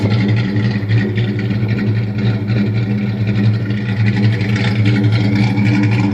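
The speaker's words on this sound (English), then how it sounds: "I'm going to stop talking here in a second and let you guys hear that exhaust." Custom 2000 Ford Mustang GT with a hybrid exhaust and BBK tuned-length shorty headers idles in a deep, steady rumble, loud and close, with a constant throaty burble and no talking over it.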